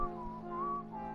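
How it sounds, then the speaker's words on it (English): A character whistles a tune inside a New York bank in the video game Hitman, a clear, steady melody over a low hum of background music. "That's a nice tune you're whistling"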